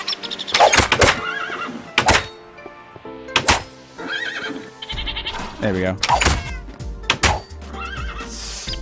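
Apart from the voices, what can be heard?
horses neighing in Minecraft video game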